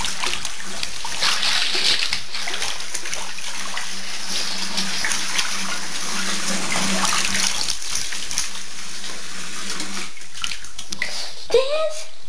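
Pool water bubbling in the Webkinz video game, a steady watery wash filling the whole stretch with brief splashy accents, while faint children's voices chatter over it.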